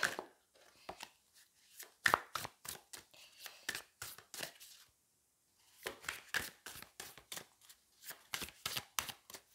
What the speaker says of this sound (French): J'ai pris le Darkwood Tarot et on va aller prendre 3 cartes